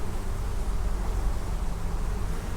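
Honeybees swarm in a steady, dense buzz around an open hive, loud and close with no pauses and no talking.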